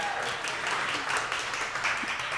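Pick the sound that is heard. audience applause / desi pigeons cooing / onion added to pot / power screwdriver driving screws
audience applause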